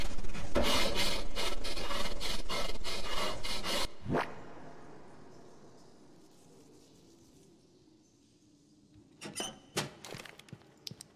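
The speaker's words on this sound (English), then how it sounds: "Whatever that sawing sound was." A harsh rasping, sawing scrape in the Roblox game Interminable Rooms, rapid rhythmic strokes for about four seconds, then a sweeping squeal and fading rumble before a few more scraping bursts near the end.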